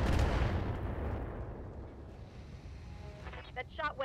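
Heavy weapon shot in the mech game Battletech, a deep booming blast at the start that decays into a long rumbling tail, followed by a voice speaking.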